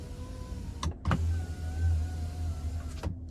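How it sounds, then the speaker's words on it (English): A power sliding rear window on a 2022 Chevrolet Silverado 1500 LTZ pickup, with a steady electric motor whine running for a couple of seconds, bracketed by soft clunks as it starts and stops. No one speaks. "we have a power sliding rear window"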